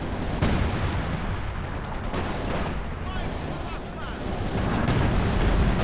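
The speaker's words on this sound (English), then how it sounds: "That was a terrible walking Stuka barrage." Walking Stuka rocket artillery barrage in the Company of Heroes 2 strategy game: dense, continuous rumbling explosions and blasts that swell and roll on, loud and layered, with a voice talking over the battle.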